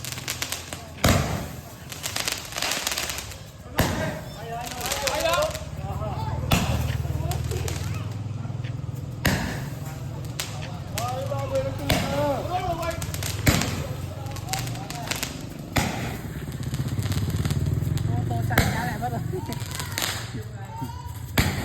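Firecrackers and fireworks in a Vietnamese village, set off for the 50th anniversary of the 30 April liberation, crack repeatedly in a steady irregular series of sharp bangs, some near and some distant, while people talk throughout.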